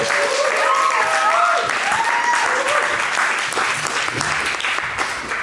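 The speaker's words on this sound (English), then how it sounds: "please give him a round of applause" An audience applauds for an evening speaker, a full sustained round of clapping from a crowd, fairly loud and steady, with a voice talking over it in the first half and the applause fading slightly toward the end.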